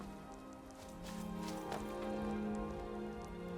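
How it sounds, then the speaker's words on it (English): Rain falls steadily in Skyrim, a soft continuous patter that grows slightly louder partway through, heard alone without talk. "It's raining!"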